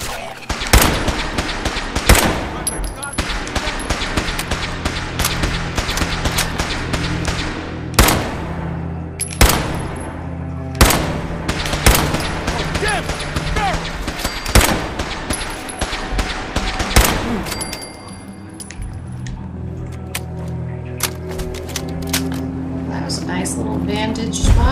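Rapid gunfire bursts in the video game Fallout 4, loud repeated machine-gun volleys and single shots crackling through much of the stretch over a low rumble, with voices talking in between.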